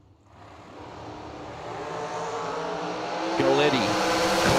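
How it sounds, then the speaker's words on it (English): Dragster engines of D category drag racing cars idle and rumble loudly in the staging lanes at a drag strip, a steady growling roar that builds in intensity, with a sharp rev near the end and a voice talking under it. "My D category dragsters are all lined up in the staging lanes"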